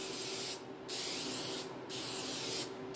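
Spray paint hisses onto a 1968 Pontiac GTO 400 engine valley pan in three steady bursts, each broken by a short pause, loud and close with no voices.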